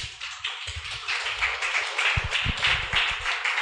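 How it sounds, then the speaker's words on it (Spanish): A congregation claps during an Easter resurrection sermon in a church: dense, continuous clapping that sounds fairly near. Some low thumping taps and knocks run underneath the hands. "Denle un aplauso a Jesús."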